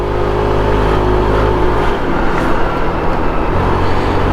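A SYM 125cc scooter engine drones loudly and steadily while accelerating to overtake on a road trip, with road and wind rumble throughout and the pitch shifting slightly midway.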